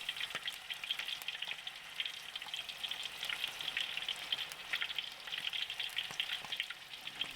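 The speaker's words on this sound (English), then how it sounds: "Fry the shrimp for about 3 minutes and 30 seconds, turning them occasionally." Five-spice shrimp fritters deep frying in hot oil, giving a steady, dense crackling sizzle with scattered pops that holds at an even level throughout, with no voices.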